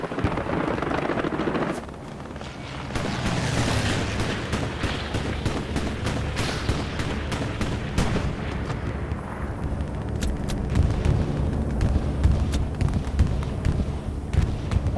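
Bombing run explosions in the Hell Let Loose war game, a continuous loud rumble of blasts and crackling gunfire-like bursts throughout, heavy low-end booms swelling in the second half.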